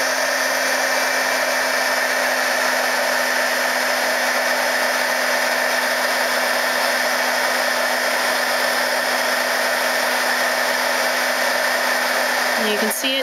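Electric heat tool blowing hot air to melt and cure embossing powder on acetate for a stamped ornament, a steady close whirring hiss with a faint tone, running continuously before briefly shifting at the end.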